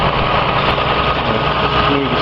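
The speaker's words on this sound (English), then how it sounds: "It's a very smooth engine. You can hear it." A 1968 Toyota Crown MS55 engine idles close to the microphone, producing a steady, even hum with a smooth, unbroken texture and no noticeable fluctuation.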